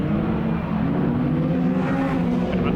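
A Mark 1 Ford Focus rallycross car with a 2-litre engine racing at Pembrey in the BTRDA Rallycross Championship, its engine droning loud and continuous under load, with shifting revs and race cars nearby.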